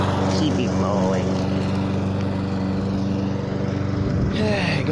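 A lawn mower engine drones steadily and close, a continuous buzzing hum that holds an even level throughout, with some faint background activity.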